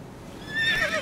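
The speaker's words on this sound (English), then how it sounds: "Por suerte, en sus viajes, Geralt cuenta con la ayuda de su caballo, Sardinilla." Roach (Sardinilla), Geralt's horse in The Witcher 3: Wild Hunt, gives a single clear, rising whinny close by, standing alone without speech.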